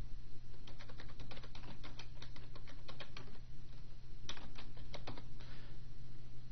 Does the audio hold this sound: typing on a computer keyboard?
yes